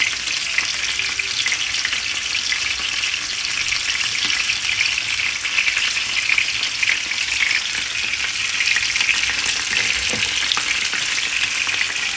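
Garlic sizzles and crackles steadily in a hot pan, a dense, even frying hiss that runs unbroken for the whole stretch, with a faint stir or two and no voices.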